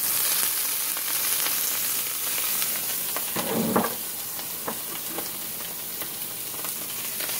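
Onions sizzle in a hot pan, making a loud, continuous fry with occasional scraping and stirring sounds, close up and without speech.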